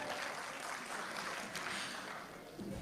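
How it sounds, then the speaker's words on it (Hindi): An audience at a comic Hindi poetry gathering, the EZCC Indradhanush programme of 2023, claps in a continuous, fairly faint patter. The applause dips briefly near the end. "एक बार जोरदार ताली तो कम से कम बजा दीजिए।"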